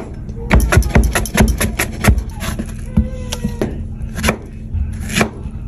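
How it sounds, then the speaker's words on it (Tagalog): A knife chops carrots on a cutting board in a quick run of crisp, close taps, then slows to scattered single cuts while a voice talks over them. "Tapos hihiwain lang natin yung ating carrots guys."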